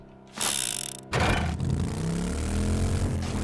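A vehicle in the 7 Days to Die survival video game drives forward to run over a zombie, with a loud mechanical clatter and engine surge that jumps up sharply about a second in and stays steady.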